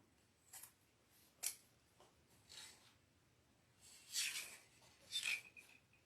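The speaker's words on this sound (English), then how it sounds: "I got these scissors from Ferris Silk" Scissors snip through wreath ribbon at close range in several separate crisp cuts, quiet and irregularly spaced with soft handling rustle between.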